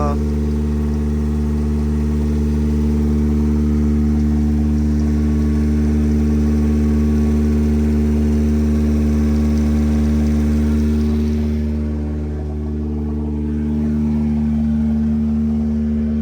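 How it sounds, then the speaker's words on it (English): A Toyota AE86 with no exhaust system idles high at about 2,500 rpm, a loud, close, steady droning rumble that dips briefly near the end while a person talks over it. "this car is so loud now with no exhaust system, but it's idling really high right now"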